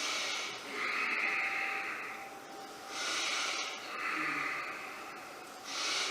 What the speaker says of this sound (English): Holding here now, just do my deep breathing as I tighten all these muscles.